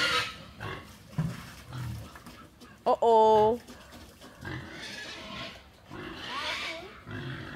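Farm pigs squeal and grunt excitedly while being fed outdoors in Jamaica, with one sharp loud squeal standing out amid restless snorts, as people talk nearby.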